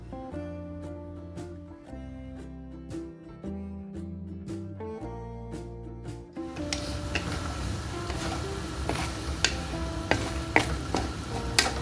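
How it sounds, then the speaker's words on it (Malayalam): Maggi curry noodles are stirred with masala in a pan: tonal music plays first, then a sizzling, scraping stir with light clinks takes over for the second half, close and steady. "മസാല പ്രോപ്പറായിട്ട് മിക്സ് ചെയ്യാനാണ് കേട്ടോ ഇങ്ങനെ മിക്സ് ചെയ്യുന്നത്"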